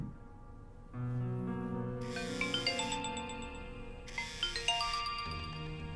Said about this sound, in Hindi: रबाब का फोन है